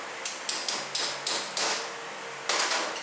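A regular punch is tapped to fold a snap ring during a Ford 4R75E transmission overhaul: about seven sharp, close metallic taps in a steady rhythm, with a short pause before the last one.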